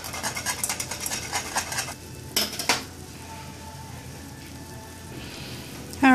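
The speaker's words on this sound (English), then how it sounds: "go ahead and whisk it. Make sure it doesn't bubble up on you." A whisk scrapes and clinks against a pot of homemade cream of mushroom soup, quick rhythmic stirring strokes up front that fade into a softer simmering bubble.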